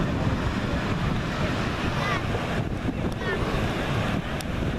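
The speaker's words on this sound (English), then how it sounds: "Hopefully you can pick up the sound of the ocean on that." Ocean waves wash onto a beach in Ocean City, New Jersey, as a steady, loud roar of surf mixed with heavy wind buffeting the microphone, continuous throughout with no talking.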